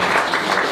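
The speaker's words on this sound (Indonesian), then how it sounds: "Kasih tepuk tangan dulu dong." A brief burst of dense applause from a seminar audience, steady clapping with no voices over it.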